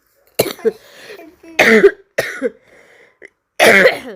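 Several harsh coughs and throat-clearing bursts from a person with a cold, close and loud, coming in separated fits with short pauses between them.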